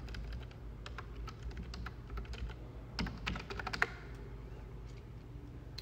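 Quick clicks of typing on a computer keyboard, close and fairly soft, with a cluster of louder taps near the middle of the clip over a low steady background hum.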